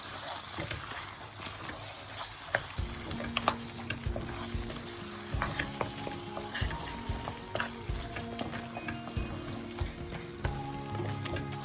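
Hot spicy pepper mutton roast with garam masala being stirred in a pan, soft sizzling and frying under steady scraping and clinking of the spoon, close and fairly quiet, with no talking.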